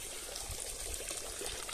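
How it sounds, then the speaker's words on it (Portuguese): Water pouring from a pond filtration system on a small ranch with tilapia, a faint, steady splashing gush, continuous throughout with no voices. "O sistema de filtragem está funcionando perfeitamente, jogando bastante água."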